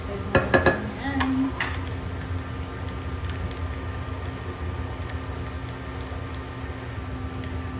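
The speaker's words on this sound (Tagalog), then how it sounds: "Pagpagisa natin. So, ito na ating bawang. Toasted na yan." Garlic toasts in a pan for pancit palabok sauce, with a steady sizzle over a faint hum and a few brief utensil clinks near the start.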